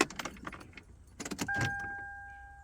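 A 2000 Toyota 4Runner SR5 with a 3.4L engine and a knocking fault, heard as key rattling and clicks, then a brief crank and catch into a rising rumble, with a steady two-tone door-open chime sounding over it.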